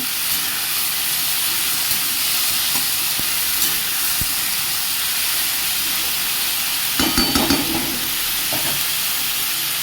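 Beans, potato and snake gourd frying in a pan while turmeric is stirred in, giving a steady hiss of sizzling oil with a few louder scraping and clattering stir strokes near the end.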